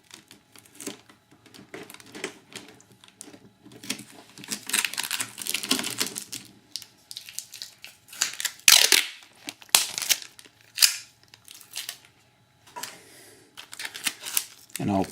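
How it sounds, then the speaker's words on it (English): Packing tape is stretched and pressed onto a model helicopter fuselage, giving intermittent sticky crackles and peeling rips in short bursts, close and moderately loud, with handling noise between them. "And I use a little packing tape here"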